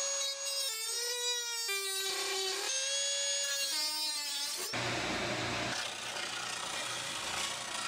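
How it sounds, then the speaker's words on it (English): A bandsaw in a woodworking shop cuts a circle to fit a dust collector port: a rising and falling tonal whine from the machine, then a sudden, steady, rough, broadband cutting noise that carries to the end. "I'll cut that into a circle that matches the dust port"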